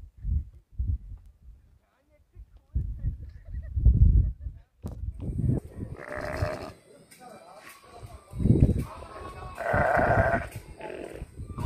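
Young lambs on a hill farm in Kodaikanal bleat repeatedly, several wavering cries close by mixed with other farm animal calls, while someone talks over and between them.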